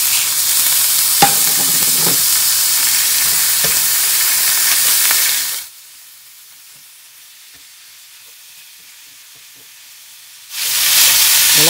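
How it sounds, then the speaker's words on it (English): Ground meat browning in a cast iron skillet for a Tex-Mex dish, a loud, close, steady sizzle with scraping as it is broken up, cutting out to near silence midway before the frying noise returns. "We're going to start browning the meat."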